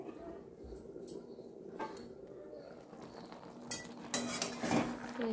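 Clatter of a pot lid being set onto a cooking pot of egg omelette curry, several metallic clinks near the end over low kitchen background noise.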